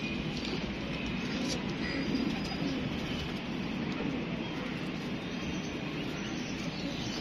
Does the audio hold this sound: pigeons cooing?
yes